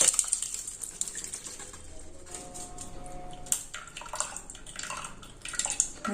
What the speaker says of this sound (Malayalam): നന്നായിട്ട് ഇതിന്റെ വെള്ളമൊക്കെ വാർന്ന് പോണം